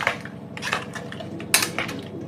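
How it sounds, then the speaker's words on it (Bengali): Spices being mixed in a metal cooking pot during home cooking, with a series of close metallic scrapes and clinks from a spoon against the pot, irregular and fairly quiet. "মশলাগুলো একটু মাখিয়ে নিচ্ছি ভালো করে।"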